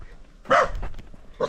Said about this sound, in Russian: И здесь собачка.